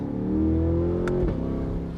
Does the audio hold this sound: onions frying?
no